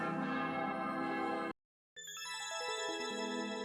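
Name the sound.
bell noises in video game Mario Maker 2 level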